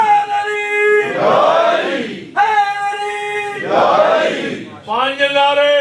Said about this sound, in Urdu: ایک نعرہ ذرا لگائیں